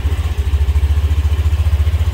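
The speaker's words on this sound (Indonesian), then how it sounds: "Kita hidupkan sepeda motor." A Honda Beat Deluxe motorcycle engine runs close and loud, settling into a steady, rapid, even idle throb.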